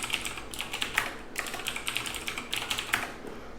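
Quiet, quick keystrokes on a computer keyboard as a password is entered twice, irregular soft clicks close by with no voices.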